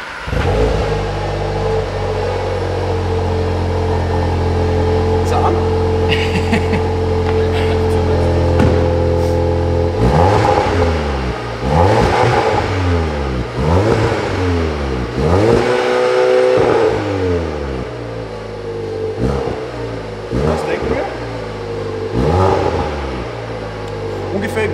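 A Seat Leon Cupra R ST estate with a four-pipe exhaust idles loudly, then is revved repeatedly, each blip rising and falling in pitch in a steady rhythm, with people talking over the engine.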